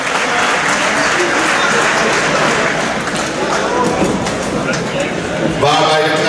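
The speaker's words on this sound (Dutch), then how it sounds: "ook de heren van Advendo verdienen een groot applaus met deze tweede prijs" Sustained loud applause from an indoor crowd at a futsal tournament prize ceremony, honoring the runners-up, with a voice speaking over the clapping and a brief shift in the crowd noise near the end.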